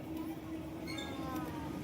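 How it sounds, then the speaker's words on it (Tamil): A train runs past at a family park on a Sunday outing, a steady rumbling roll with faint high wheel squeal, heard at moderate distance under ambient outdoor noise. "அங்க பாருங்க ட்ரெயின் போகுது."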